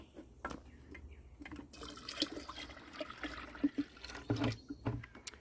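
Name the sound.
water and blackstrap molasses mixture being poured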